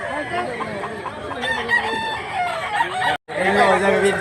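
Roosters at a Cebu fowl seller's pens crow loudly and up close, one long call followed by another after a brief gap, with clucking birds and someone talking in the background.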